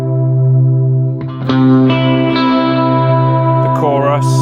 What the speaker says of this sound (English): The space echo.